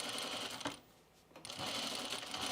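A sewing machine stitching crinkle cotton fabric for a 1930s-style blouse runs in two close bursts of rapid whirring, broken by a short pause.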